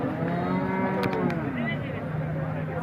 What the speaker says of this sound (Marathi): मोठी गाई आहे